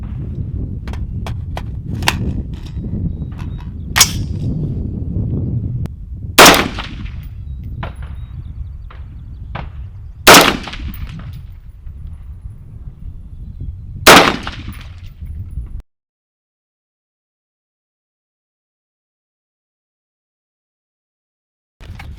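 AR-15 fitted with a Midwest Industries .223 Wylde upper firing three-shot groups outdoors: a few sharp, loud cracks spaced several seconds apart over a steady low rumble of background noise, then quiet.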